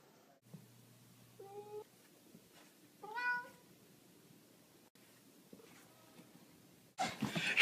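A house cat meows a few short, faint calls in a quiet room, followed by a burst of rustling noise at the end.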